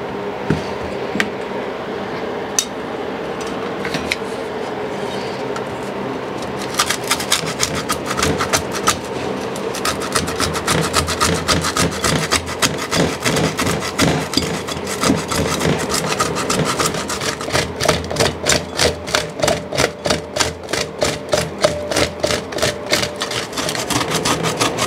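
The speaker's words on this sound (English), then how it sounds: "since I'm grating this up real fine like this" A varnish conk mushroom is grated finely by hand, giving a dry rasping scrape that starts soft and sparse, then settles into a steady, brisk rhythm of close, loud strokes.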